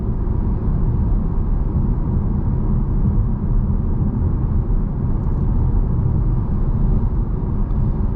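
A 2021 Audi TTS with a seven-speed dual-clutch gearbox is driven on the road, its engine giving a steady, low, broadband rumble from inside the cabin with no talk during it.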